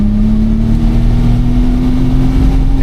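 A twelve-cylinder Ferrari is held in neutral while the throttle is worked. The engine gives a loud, close, steady drone that slowly rises in pitch over a few seconds, with no speech.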